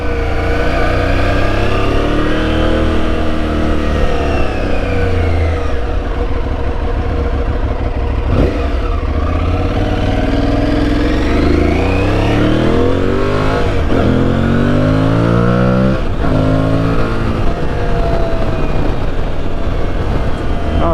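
Aprilia Tuareg 660 motorcycle ridden off-road, its engine loud and constant throughout with rising and falling revs and heavy wind rush, no voices.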